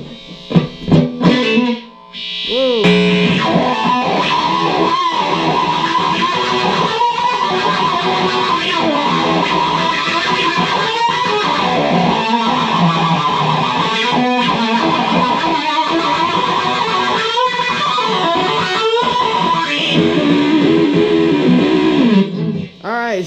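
Distorted electric guitar through a DANO-WAH DW-1 wah pedal on its 60s rock B setting: a few plucked notes, then a loud sustained stretch of gritty, sweeping wah-filtered riffing, with a brief exclaimed voice near the start.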